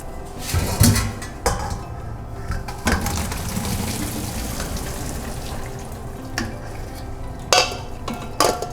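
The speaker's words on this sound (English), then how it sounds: "And I'm gonna drain them over here in the sink." A pot of boiled turnips is drained over a kitchen sink, with water pouring and splashing steadily and a few clanks of the pot against the basin.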